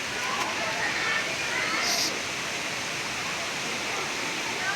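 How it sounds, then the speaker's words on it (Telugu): Mettagoda waterfall sends out a steady, dense roar of falling water, close and constant throughout with no break. "మెట్టగోడ జలపాతం ఇది."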